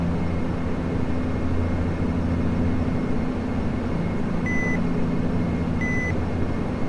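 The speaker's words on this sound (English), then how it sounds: "I don't know why it makes that beeping noise" Two short, high electronic beeps sound a little over a second apart in the cockpit of a Dash 8 Q400 in the Prepar3D flight simulator, over a constant low engine drone.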